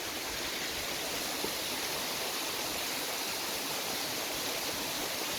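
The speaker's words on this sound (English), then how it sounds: "not much water coming over now, but it's an epic waterfall when it's flowing" A jungle waterfall running with little water spills into a pool below, giving a steady, even rushing hiss that holds unchanged throughout.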